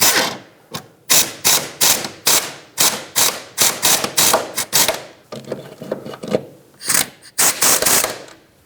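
A hand ratchet tightening the rear shock mount nuts on a 2013-2020 Nissan Pathfinder, loud close rapid clicking bursts repeated in quick strokes with brief pauses between, alone without talk.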